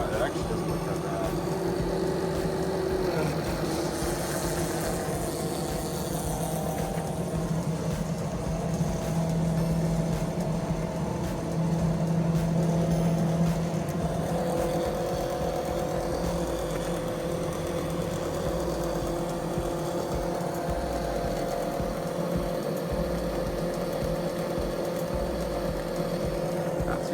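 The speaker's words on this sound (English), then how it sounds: "Go ahead and turn it on. Pump's running." A Milado electric oil transfer pump, used on a turbocharged BMW E36 M3, hums steadily at low level for the whole stretch while people talk over it.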